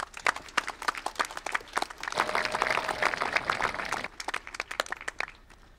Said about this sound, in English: Seniors, let's give a round of applause for the people that got you here.